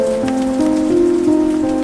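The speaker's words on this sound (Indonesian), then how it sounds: "Hujan deras pun akhirnya turun dan Mas Broto menunggu hujan reda" Heavy rain pouring down, a dense, constant hiss of drops with sustained tonal backing layered over it, lasting without pause through the short stretch.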